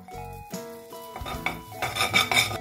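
Butter goes into a pan for an omelette, giving a soft sizzle with light metal scraping and pan clatter, close and moderately loud, with a tonal background running throughout.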